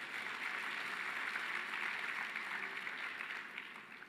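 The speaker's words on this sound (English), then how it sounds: "Give them a big hand of applause." An audience at an education sector gathering applauds, a sustained wash of clapping from many hands that holds steady and then begins to taper off toward the end.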